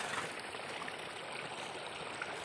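Strong water rushes steadily through a broken dike in a rice field, a continuous close hiss and gurgle with no pauses and no voices.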